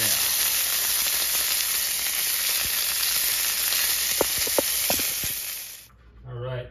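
Lamb chops sizzle loudly and steadily in a hot pan, a dense continuous hiss with a few faint clinks, then the frying cuts off abruptly near the end and a voice is briefly heard.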